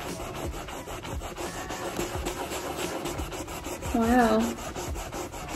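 Scrubbing a painted faux marble countertop with cleaner, a close, steady rubbing and scraping with rhythmic strokes, with a brief exclamation from a person partway through.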